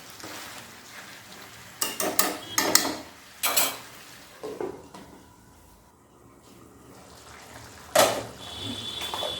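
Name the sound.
jackfruit being sautéed with spices in a pan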